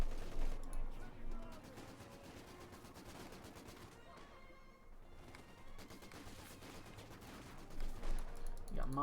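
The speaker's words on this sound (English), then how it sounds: "Machine gun opening up here from the church." Machine gun fire from a church position in Company of Heroes 2, an infantry battle between two armies, comes as dense rattling bursts mixed with other battle noise and music at moderate level, with commentary talk running over it.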